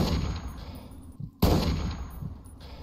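Gunshots in the video game Fallout 3, fired during a bridge battle at the Super-Duper Mart, heard as a loud broad crack standing out sharply after a short quiet gap, with a muffled earlier report and rumbling noise around them.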